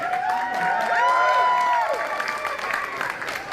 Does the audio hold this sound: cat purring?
no